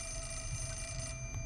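Telephone ringing in the horror video game Fatal Frame: Mask of the Lunar Eclipse, a faint, continuous bell-like ring with steady tones over a low background hum, no voices.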